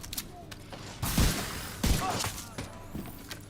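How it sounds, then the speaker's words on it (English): Two punchy bursts a little under a second apart, sharp impacts with a wet, splattering crunch, from a combat sound effect in a video game set in the Capital Wasteland, heard over a low ambient background. "I got that whiz-bang splatter sound again."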